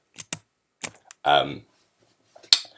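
A few sharp key taps on a computer keyboard, entering a length value in SketchUp drawing software, come as separate clicks spaced across a short moment, with a brief spoken sound in the middle.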